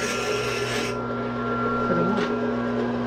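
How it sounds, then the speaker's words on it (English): A Harbor Freight bandsaw cutting metal, heard as a loud, steady close-up rasping whine with a sustained hum, harsher at the start and then settling into an even grind. "We also got this Harbor Freight special bandsaw"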